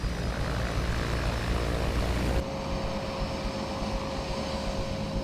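A loud, steady drone from the twin turboprop engines of a Grumman Mallard seaplane fills the air, dropping abruptly partway through to a lower hum with a sustained tonal whine.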